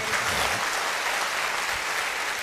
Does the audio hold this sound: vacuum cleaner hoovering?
no